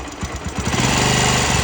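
A motorcycle engine idling in a garage after its ignition timing was set, loud and close, with a fast, even, thumping beat that settles into a steady rapid pulse as it runs smoothly.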